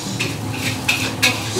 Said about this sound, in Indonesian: Acarnya kita aduk aja biar seger.